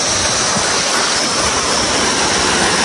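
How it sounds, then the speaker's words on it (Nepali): Close and loud, a small jungle stream in Nepal pours along in a continuous, even roar of rushing water with no other sounds. "खोलामा आइपुग्यौँ।"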